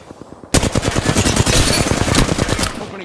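Automatic weapon fire in the Apex Legends video game, beginning abruptly after a short quiet lead-in and continuing as a loud, rapid, sustained burst of shots to the end.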